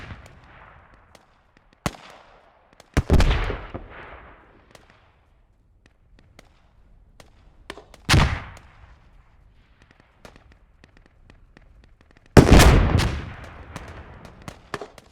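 Bursts of support gunfire in a multiplayer shooter battle: sharp isolated shots around two and eight seconds and louder heavy volleys at three and twelve seconds, with quiet gaps between.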